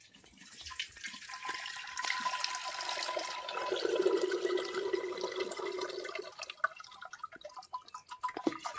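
Strained kudampuli (Malabar tamarind) liquid pours steadily into a vessel, a continuous watery splash that swells in the middle and tapers to scattered drips near the end, close and clear with no talk.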